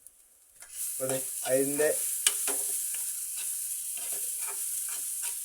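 Fresh home-grown curry leaves hit hot oil in a pan and sizzle loudly and steadily, with stirring scrapes and a brief voice over the frying.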